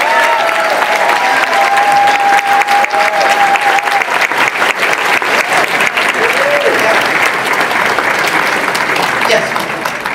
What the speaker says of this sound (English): Would you please give a round of applause to Joel here who keeps my affairs in order?